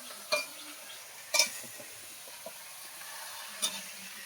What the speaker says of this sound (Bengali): এই দেখো কি লাউ রান্না করছে আর কি আলু ভাজা